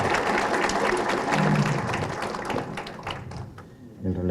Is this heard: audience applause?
yes